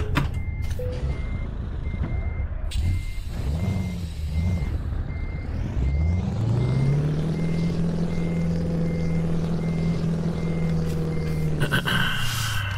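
Steady, evenly spaced reversing beeps from a truck in Euro Truck Simulator 2, repeating over a rumbling engine that rises in pitch as the truck accelerates, with a hiss of air brakes at the end.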